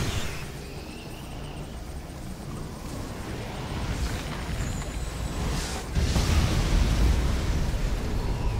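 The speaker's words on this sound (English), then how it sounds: "we're going to use our mighty super weapon, our ion cannon, take out these three power plants and their armory" Ion cannon super weapon strike in Command & Conquer 3, a dense rumbling blast that swells steadily and surges into a heavier booming roar near the end, with no voices.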